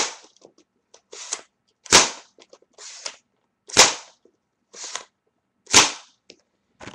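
Modified Xploderz Xblaster 200 toy blaster firing at a couch indoors: three sharp, loud, nearby pops about two seconds apart, each preceded by quieter mechanical clicks and scrapes of priming and loading.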